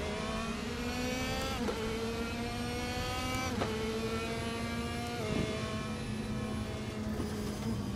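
A 2016 DTM race car in Raceroom Racing Experience runs a practice installation lap, its steady high-revving engine drone held for the whole stretch. The pitch falls and climbs again through several gear changes, and the note eases as the throttle lifts.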